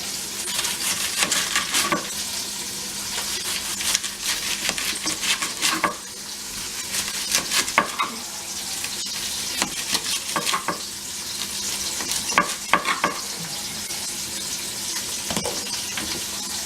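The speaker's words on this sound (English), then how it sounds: "the onions are going good" Onions fry in a pan while being stirred, a steady crackling sizzle broken by frequent scraping and clinking of the utensil against the pan, close and alone.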